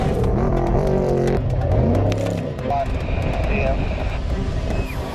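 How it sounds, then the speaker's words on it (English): Off-road race trucks roar past at the Mint 400 desert race, loud engine revving and a sweeping pass-by whine, then a quieter drone as another truck approaches at a distance. "the trick trucks work their way through the third lap"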